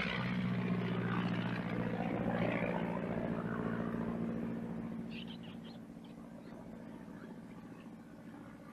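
A propeller airplane in a 1940s jungle safari setting drones steadily nearby, then its engine fades as the plane flies off into the distance.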